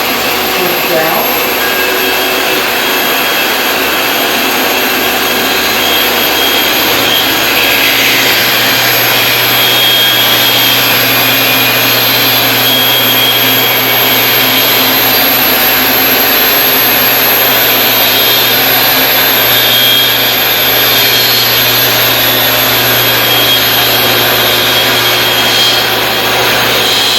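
Dewalt DWS520CK track saw running and cutting, a loud, sustained high-pitched whine with a steady roar that holds for the whole stretch, with some talk underneath.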